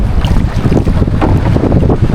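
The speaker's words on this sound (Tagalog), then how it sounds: "Taas ng hangin" Strong wind buffets loudly and continuously, with gusty surges and a watery rush beneath, no speech.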